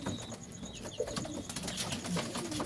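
Pigeons feeding on wheat at night, with soft cooing and bird calls close by alongside light pecking and shuffling, a steady low rustle throughout.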